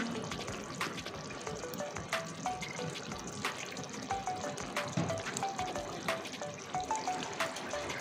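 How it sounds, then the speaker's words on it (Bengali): Raw mustard oil poured into a simmering boal fish curry with mustard paste and eggplant, a soft liquid trickle over gentle bubbling with light clinks throughout, no voices. "এবার বোয়াল মাছের তরকারিতে এবার দিয়ে দিব কাঁচা সর্ষের তেল।"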